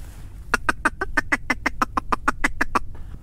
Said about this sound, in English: Got two big ducks behind us.